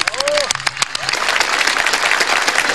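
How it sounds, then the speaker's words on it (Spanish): A crowd applauds loudly and continuously, dense clapping filling the space, with a voice briefly heard over it at the start. "Fuerte las palmas para él."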